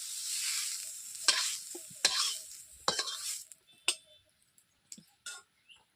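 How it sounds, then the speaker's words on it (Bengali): Broccoli fries and sizzles in a kadai, a loud hiss at first that fades as pieces are stirred and lifted out, with several sharp scrapes and clinks of a utensil against the pan. "ব্রোকলিগুলোকে এইভাবে আমি ভেজে নিয়েছি। এরপর কড়াই থেকে আমি এখন তুলে নিচ্ছি।"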